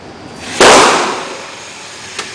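A single sharp gunshot from a Ruger rifle or Colt handgun at an outdoor shooting range cracks loudly and then decays in a long echoing tail, with a faint click near the end.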